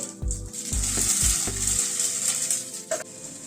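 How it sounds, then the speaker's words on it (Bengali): Paneer pieces frying in white oil in a wok give a continuous close sizzle, with a few low thumps and a light clink as pieces shift, no voices. "পনিরগুলোকে একটু হালকা করে ভেজে নিচ্ছি"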